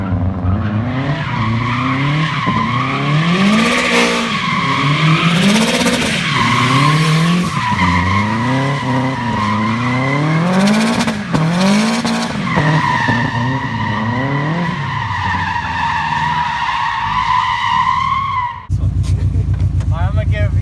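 Turbocharged Subaru converted to rear-wheel drive drifting, with long wavering tire squeals rising and falling over a revving engine, loud and close, ending abruptly; voices talk faintly underneath.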